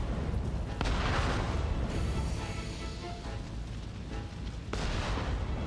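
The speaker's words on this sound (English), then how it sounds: "I'm hoping that we're not gonna get hit by the cannons." Cannon fire in the video game Nioh 3 sounds as a dull booming roar over heavy background rumble, with a couple of sharp blasts punctuating the steady noise.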